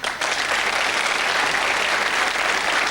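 An audience claps steadily for a few seconds, a dense, even wash of applause without voices.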